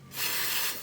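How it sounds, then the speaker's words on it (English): A short, close burst of QD electronic contact cleaner sprayed from an aerosol can onto a vintage VHS/DVD combo player, a single steady hiss lasting under a second. "I'm going to try this QD electronic cleaner."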